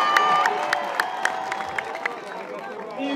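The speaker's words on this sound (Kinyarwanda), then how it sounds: "amashyi kuri Gatogo" A comedy show audience cheering and clapping for a performer, a lively crowd roar with regular sharp claps over an ongoing murmur of voices.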